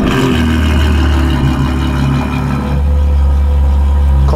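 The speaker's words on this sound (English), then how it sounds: "Cold start. So this is what it sounds like." Ferrari 812 GTS fitted with a Novitec exhaust on a cold start, a loud, steady high-idle V12 roar with deep low rumble that dips briefly and resumes, heard close up without talk.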